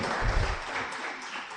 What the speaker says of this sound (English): I think our president deserves a bigger round of applause than that.